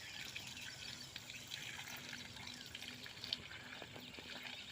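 Water runs faintly from a tap used for washing hands, a thin continuous trickle heard at a distance, with occasional bird calls in the background and no talking.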